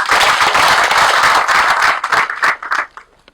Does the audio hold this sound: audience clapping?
yes